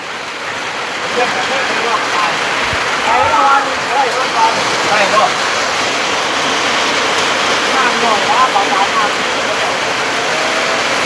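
Steady rain pours down as a dense, continuous hiss, close and loud, with faint voices murmuring now and then underneath.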